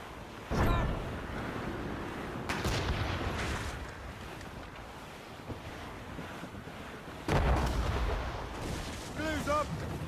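Ship cannons firing during a naval battle in Assassin's Creed Rogue produce a few heavy booming blasts over wind and rushing sea, with shouted voices between the shots.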